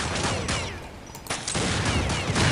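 Gunfire in Counter Strike while a single-shot pirate pistol is in use, with sharp bursts and a noisy crackling din that briefly dips mid-way before resuming loudly.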